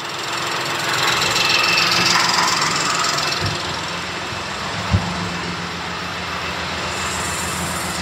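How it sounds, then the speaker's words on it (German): A 2017 BMW 216i B38 engine idling steadily at close range after a timing chain repair, a continuous low drone with a brief sharp knock midway and a fainter hiss above. "Motor läuft"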